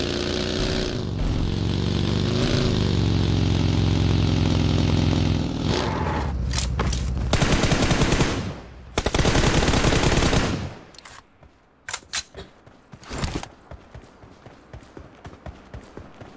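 Rapid gunfire from a shooter video game: a loud, sustained roar gives way to choppy bursts of shots with short gaps between them. Brief talk is heard.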